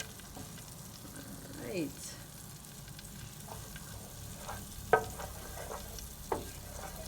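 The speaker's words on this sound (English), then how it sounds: "this is less than a tablespoon of melted butter. All right, so melting it, melting it" Less than a tablespoon of butter melts in a pan with a soft, steady sizzle, broken by a couple of faint clinks, while a person talks briefly over it.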